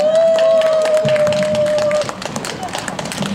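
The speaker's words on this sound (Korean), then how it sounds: "여러분 큰 박수로 환영해 주세요." A crowd at a Korean singers' association show claps to welcome a singer to the stage. A host keeps talking over the applause and a steady tone rings for the first two seconds.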